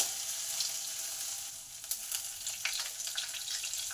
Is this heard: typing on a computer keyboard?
no